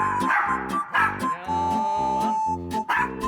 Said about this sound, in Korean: 친구가 키우는 강아지 보리예요.